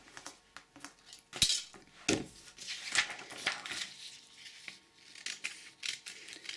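Scissors cut fabric along curves while a pattern piece is shaped, giving quiet, irregular snips and crisp slicing strokes close by, with light handling clicks between them.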